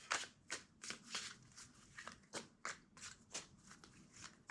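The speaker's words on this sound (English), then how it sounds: "Two more shuffles." A deck of cards is riffled repeatedly, short crisp bursts of flicking and snapping recurring every half second or so, close and quiet.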